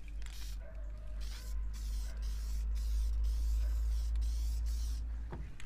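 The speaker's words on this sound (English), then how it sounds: "We're just gonna lightly mist it." Light misting of clear coat spray onto a foggy car headlight during restoration, a steady airy hiss running the length of the clip with brief pauses between passes, close and fairly loud, no talking.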